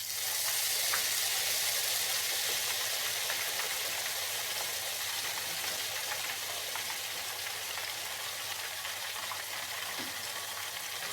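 Ghevar batter, poured from a height in thin streams into hot ghee for rabdi ghevar, sizzles with a dense, steady, close crackling hiss that holds evenly throughout, with no voices.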